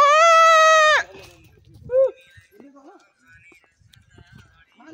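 A sheep on a hillside trail between Kathmandu and Chitlang gives one loud, close, drawn-out bleat. Quiet shuffling, footsteps and faint talk follow.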